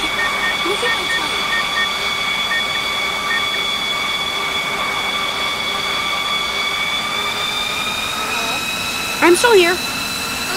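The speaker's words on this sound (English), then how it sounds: "I'm going to get as much speed as I can. Look at my plane." A Roblox Pilot Flight Simulator plane engine drones steadily, a whining, tonal roar that holds near constant as the plane picks up speed, with a voice talking briefly over it near the end.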